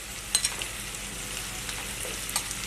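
Mashed potato sizzles gently in a pan over a low flame for aloo bharta, a soft steady frying hiss broken by a few faint stirring scrapes, with no voices.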